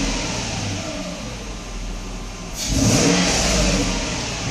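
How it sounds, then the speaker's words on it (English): A Mercedes engine rises from idle as the throttle opens, a steady mid-pitched hum that swells into a louder rev partway through, heard close and with no talking. "You can see it accelerates pretty good."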